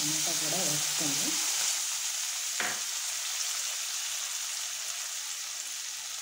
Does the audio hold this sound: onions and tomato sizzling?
yes